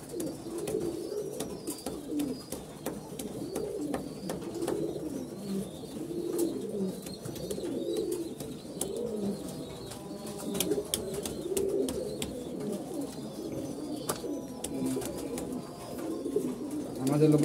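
Fancy pigeons at a pigeon farm in Savar, Dhaka, cooing steadily as a dense flock, a continuous layered murmur of overlapping low coos with scattered brief clicks and rustles throughout.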